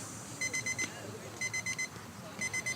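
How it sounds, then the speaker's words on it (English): Game timer alarm at a softball game, three repeated bursts of rapid electronic beeps, each a quick run of four or five tones, sounding over outdoor crowd ambience. "Somebody's alarm is going off. That's the game timer."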